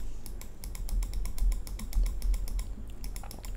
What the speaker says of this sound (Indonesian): aku cuba klik mouse tengok macam mana kita boleh dengar tak ada vibration dekat meja